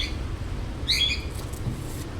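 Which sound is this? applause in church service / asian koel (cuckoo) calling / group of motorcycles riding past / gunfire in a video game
asian koel (cuckoo) calling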